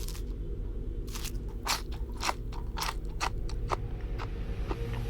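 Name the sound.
chewing crunchy datura seeds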